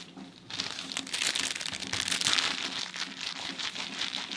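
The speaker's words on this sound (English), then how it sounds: "Plastic bag, look after that" Plastic bag crinkling as a model kit sprue for a Rubicon Models Morris C8 Quad Gun Tractor is unpacked, close and fairly quiet, with continuous rustling and crackling throughout.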